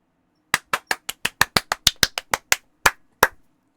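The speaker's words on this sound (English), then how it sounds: "I actually haven't tested clapping straight into the mic." About fourteen sharp hand claps struck right at the microphone, loud and close, coming in a quick even run before slowing to a few spaced final claps.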